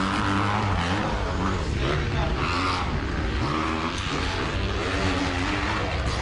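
Motocross motorcycles, among them a Kawasaki, race past with a loud, steady engine drone that fills the whole stretch without letting up.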